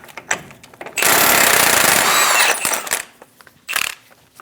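An impact wrench with a 35mm socket buzzes loudly for about two seconds, removing the front axle nut on a 2001-2006 Chevrolet Silverado 2500 HD, with metallic clinks and a short second burst afterward.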